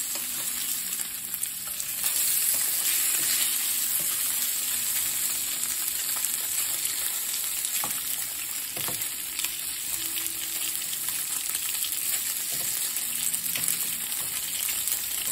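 Pelmeni dumplings frying in a pan with butter and vegetable oil, a steady close hiss and crackle of sizzling with occasional light pops and clinks, no voices.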